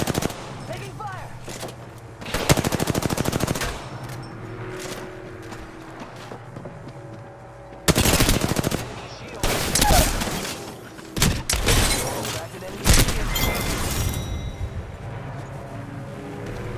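Several loud bursts of automatic gunfire ring out in the Apex Legends video game, spaced across a steady background hum, with a player's voice and footstep-like game sounds in between.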